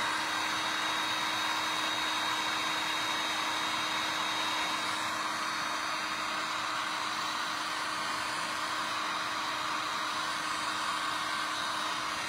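A handheld dryer blows steadily and loudly on acrylic paint drying on a painted Christmas poinsettia ornament, a continuous airy whir with a constant hum and no voices.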